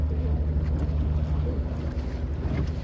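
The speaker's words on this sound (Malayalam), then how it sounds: "ഈ ഇതിനെ ശിക്കാരി ബോട്ട് എന്നല്ലേ പറയുക?" A shikara boat glides along on the water, its steady low rumble of motion and water mixed with constant wind buffeting the microphone, with no voices.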